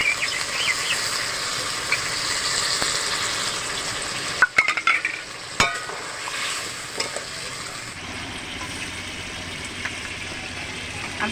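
Water poured into a frying pan of cooked egg with cabbage sets off a steady bright hiss of simmering and sizzling, broken midway by a few sharp metallic clatters and stirs, with no talking.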